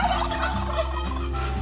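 A turkey gobbles loudly and repeatedly on a small farm in the Philippines, a rapid rattling call close to the listener with steady background noise.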